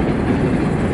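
A steady, loud rumble of a train rolling past nearby at night, dense low roar with rhythmic clatter of wheels on rails.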